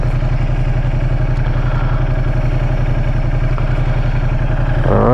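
A Ducati XDiavel motorcycle engine runs steadily at close range, a loud continuous throbbing idle with a slight rise at the end.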